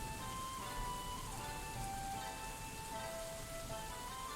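Rain in the video game Dwarf Fortress falls as a faint, steady patter with soft sustained tones drifting beneath it throughout.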